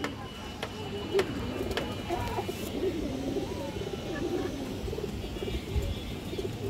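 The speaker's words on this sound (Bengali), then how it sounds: "একদম পিওর বাঘা খাকি মাদি বুটফুটের কবুতর দর্শক।" A pure khaki female boot-footed Bagha pigeon gives soft, low cooing calls close by, repeated through a steady background hum, while someone talks over it.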